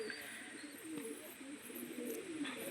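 Pigeons coo softly in a loft, a steady run of low, rolling calls repeating throughout over a quiet background.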